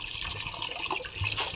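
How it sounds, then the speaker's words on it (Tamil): Water pours steadily into a pot of drumstick soup, a continuous close splashing trickle with no talk. "ஸோ இன்னும் கொஞ்சம் தண்ணி சேர்த்துக்கலாம் நம்ம."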